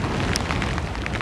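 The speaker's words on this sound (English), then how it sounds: "It's cold, it's breezy, very difficult, and it's raining" Rain falls on a cold, gusty golf course, a dense, steady hiss of drops close by that fills the moment without any talking.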